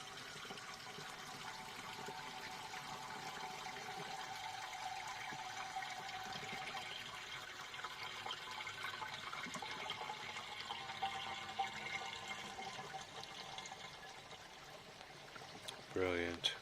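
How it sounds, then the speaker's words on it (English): Water from a pond pump flows steadily into a koi filter tank, a continuous rushing stream heard close by for the whole stretch. A brief splashy clatter comes near the end. "And tank 2 is flowing."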